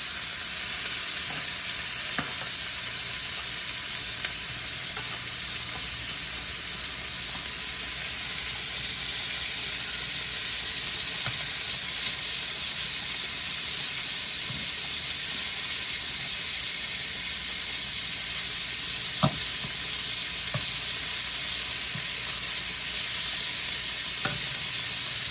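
Meatballs sizzle and fry in a pan, cooking for spaghetti and meatballs: a steady, dense hiss runs throughout with a few sharp pops and crackles, close and alone with no talk.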